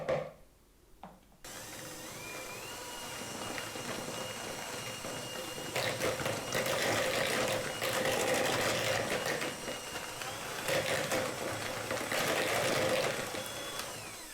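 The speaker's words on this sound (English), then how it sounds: "Even though I'm using a handheld mixer, if you have a stand mixer, go ahead and use a stand mixer instead." A handheld electric mixer whirs steadily through almond flour cookie dough, a continuous buzzing drone with rougher scraping surges as the beaters work, close and fairly loud after a brief quiet start.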